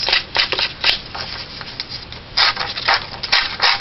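Card paper edges get scraped with a distressor tool, giving repeated short dry rasping strokes in quick uneven bursts, close and fairly loud with no voices.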